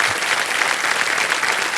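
A studio audience on the KBC game show breaks into dense, continuous clapping that holds at an even level throughout, with no talk over it.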